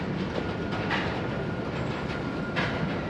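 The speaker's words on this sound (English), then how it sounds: "this train's been stopped for a while" A train halted at a railroad crossing near the Bristol state border gives a steady, dense mechanical rumble and hiss that holds evenly throughout, with a few faint higher tones drifting over it.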